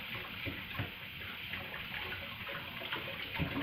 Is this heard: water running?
yes